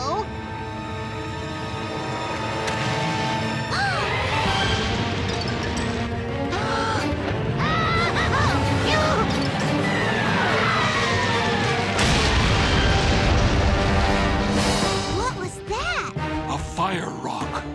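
Cartoon fire rocks crash down in a sustained, loud clatter of smashes and booms, with excited voices and music layered over the chaos.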